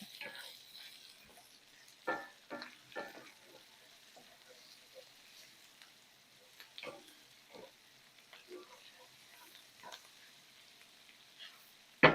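Food stirred in a hot pan, soft sizzling with scattered scraping and clinking spoon strokes, fairly quiet and close.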